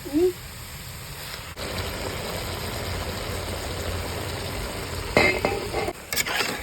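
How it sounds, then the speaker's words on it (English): Pork pieces for Pangasinan-style igado sautéing in a pan give a steady, moderate sizzle throughout, with a few clinks of a utensil against the pan near the end. "Keep on sauteing the meat together."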